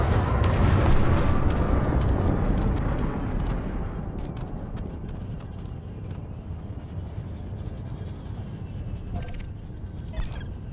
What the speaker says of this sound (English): And my multi-cannons.